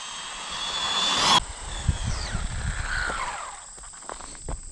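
Traxxas Slash Ultimate RC car at full throttle during a top-speed run: a high, loud motor whine builds to a peak and cuts off abruptly, then fades into a farther, pitch-sliding drone over outdoor rumble.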